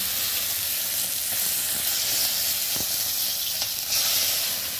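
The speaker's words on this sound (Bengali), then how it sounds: "একে একে আমি সব মাছগুলি লাল করে ভেজে নিলাম।" Tilapia fish fry in hot oil in a wok, giving a loud, steady sizzle and hiss throughout with a few faint clicks and taps mixed in.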